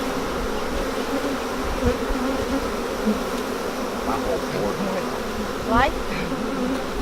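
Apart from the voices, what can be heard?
bees swarming around a beehive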